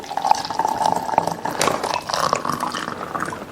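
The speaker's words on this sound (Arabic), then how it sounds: "ونحط شويه ميه مغليه، نص بقى ميه" Boiling water pours into a cup with a close, gurgling splash that fills steadily over a few seconds, with no talking.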